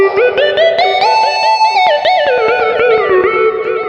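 A sustained electronic keyboard melody on a Roland GO:KEYS, smooth and gliding, drenched in a vast, long-tailed cathedral reverb that smears the notes together.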